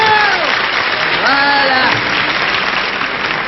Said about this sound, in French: Tout le monde l'applaudit bien fort, soyez gentils